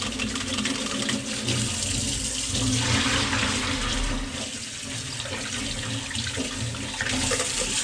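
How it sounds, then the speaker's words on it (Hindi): Cold tap water runs steadily over prawns being rinsed in a kitchen sink, a continuous close splashing wash that swells slightly in the middle, with no voices. "ठंडे पानी में एक बार रिंस हो गया।"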